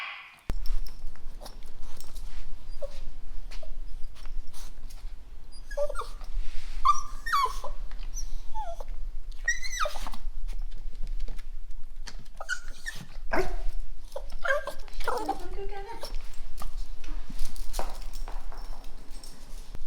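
A dog in a van conversion whimpers, whines and yips eagerly for a held ball, with high rising cries and short sharp yelps repeating up close over a steady low background hum.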